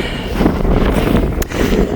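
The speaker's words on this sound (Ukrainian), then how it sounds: "Вітряна дуже погода, але більш-менш тепло сонячно" Strong wind gusting outdoors on a sunny day in a US village, heavy rumbling buffeting against the microphone that stays loud and continuous for the whole moment.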